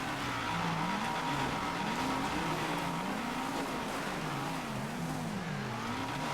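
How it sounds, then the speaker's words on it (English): A large pack of cars races in GTA Online, engines droning and revving continuously with rising and falling pitch, loud and steady throughout with no talking. "This massive pack of cars as well."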